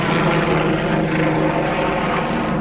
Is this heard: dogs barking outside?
no